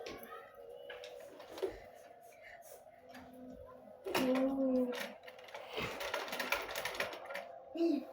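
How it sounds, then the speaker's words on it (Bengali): A sewing machine struggling and running unevenly, its mechanical whir starting and stopping in short uneven bursts with clicks and a rising whine, close by, with some faint background noise. "অনেকটা প্রবলেম ফেস করতেছি আজকে মেশিনটা নিয়ে। তাই আসলে সেলাই ঠিকমতো হচ্ছে না"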